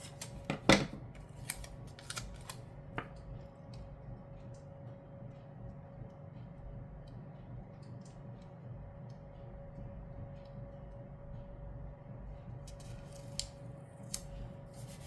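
Scissors snip through a paper cactus cutout during a calendar planner setup: a few crisp cuts close by near the start, then a long quiet stretch over a faint steady tone and hum, with a brief rustle of paper at the end.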